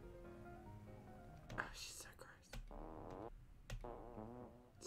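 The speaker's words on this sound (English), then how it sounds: "So many farty sound effects." Several comic fart sound effects, wobbling buzzy blasts in quick succession, mixed with breathy voices and other noise at moderate loudness.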